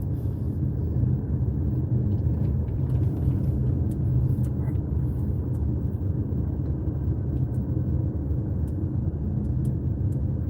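Steady rumble of cars passing along a coastal road in Palacios, Texas, during Hurricane Beryl, a continuous low drone of traffic and wind without any talking.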